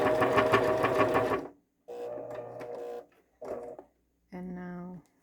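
A sewing machine stitches a paper junk journal cover, switching between straight stitch and zigzag. It runs in several short bursts of close mechanical whirring with pauses between them, and no talking.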